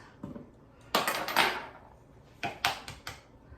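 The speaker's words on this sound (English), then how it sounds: "we're gonna add 2 eggs to this" Two medium-sized store-bought eggs cracked into chocolate chip cookie dough in a bowl, heard as a few sharp close taps and clinks on the bowl's rim, separated by quiet pauses, with no talking.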